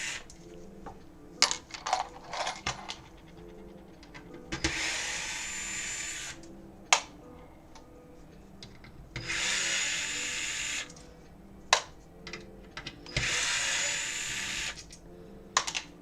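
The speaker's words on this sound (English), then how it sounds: "Take the rest of the screws out now." Screws being removed from an Xbox 360 Slim console with a red ring fault: small metallic clicks and taps scattered through, with several bursts of a whirring electric screwdriver, close and quiet.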